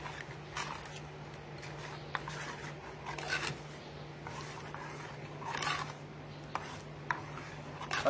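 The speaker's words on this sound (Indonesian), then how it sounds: "Setelah itu kita aduk dulu sampai rata ya, kita aduk sampai rata." Cireng dough being stirred until evenly mixed, a faint, irregular run of soft scraping and squishing strokes over a low steady hum, with no talking.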